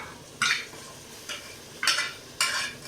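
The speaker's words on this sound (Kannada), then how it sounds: "ಖಾರ, ಉಪ್ಪು, ಅರಿಶಿನ ಕಲಿಸ್ಕೊಂಡಿರ್ತಕ್ಕಂಥ ಮಟನನ್ನು ಈಗ ಹಾಕ್ತಾಯಿದ್ದೀವಿ. ಹಾಕಿ ಅದನ್ನು ಚೆನ್ನಾಗಿ ಕಲಿಸ್ಬೇಕು." Mutton coated with chilli, salt and turmeric being stirred in hot oil: four loud scraping strokes of a spoon through the sizzling meat, close by, over a steady background frying hiss.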